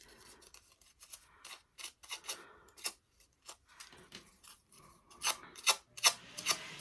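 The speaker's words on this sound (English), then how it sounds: "this scissor curling technique, what it does is it helps break down the paper and softens up the paper a little bit" Scissors draw along paper lisianthus flower petals to curl them, a run of soft rasping strokes, some sharper and louder near the end, with no voices.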